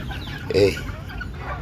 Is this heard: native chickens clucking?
yes